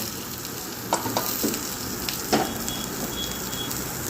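Steady sizzling and crackling of hot fried mustard-seed tempering poured into a simmering chickpea curry, with a few brief louder spatters over a continuous frying hiss.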